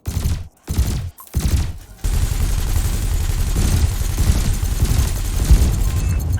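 A ship's cannon fires in the space combat game Elite Dangerous, heavy booming shots with short gaps at first, then a dense, sustained roar of rapid fire.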